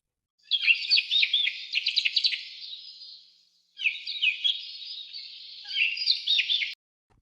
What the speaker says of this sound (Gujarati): સુરખાબ કેવું બોલે?